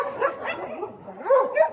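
Stray dogs at a mountain shelter housing over 260 of them bark and yip in quick, overlapping bursts nearby, with a whiny, rising tone between barks.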